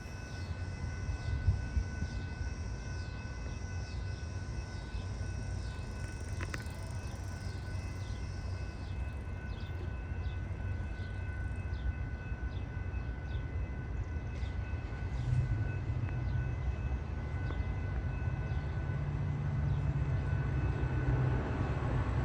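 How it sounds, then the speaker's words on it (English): An outbound Metra commuter train led by locomotive number 195 rolls past at Downers Grove, a faint, steady rumble with a repeating rhythmic clatter of wheels over rail joints, heard from a distance with no voices. "we got another outbound Metra, this time with a Winnebago leading, number 195"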